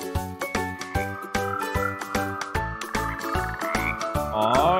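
A cartoon green frog croaks repeatedly in an animated children's film, a rhythmic series of loud, close calls, with higher chirps rising near the end.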